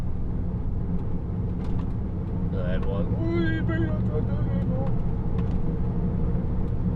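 Truck driving through a quiet housing estate, its engine a continuous low rumble with road noise throughout, while a person speaks briefly over it partway through.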